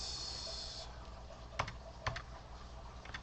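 Computer keyboard keys clack in a few quick bursts, close and fairly crisp, over a steady background hum with no talk.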